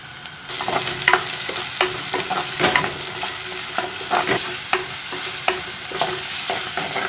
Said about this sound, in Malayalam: ഇവിടെ സവാളയും ഇഞ്ചിയും വെളുത്തുള്ളിയും കൂടെ ഒന്ന് വാടിക്കഴിഞ്ഞു.